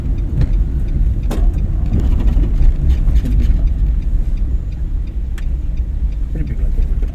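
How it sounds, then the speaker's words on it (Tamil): A car engine rumbles steadily while driving during a driving lesson, with low drone and a few clunks as gears are changed, while an instructor talks over it. "இன்னும் கொஞ்சம் அப்படியே நியூட்ரல் பண்ணி செகண்ட் கியர்."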